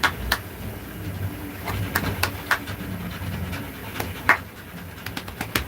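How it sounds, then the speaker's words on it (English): Doberman Pinscher dog panting in quick, steady rhythmic breaths close by, with birds cooing faintly in the background. "He has 2 Doberman Pinschers that are awesome."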